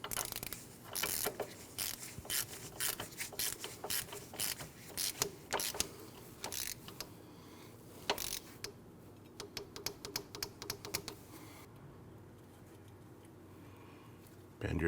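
A 19 mm outer tie rod nut on a 2012-2016 Honda CR-V is tightened to 40 foot-pounds with a ratchet, producing a faint, irregular series of quick metallic clicks in short runs.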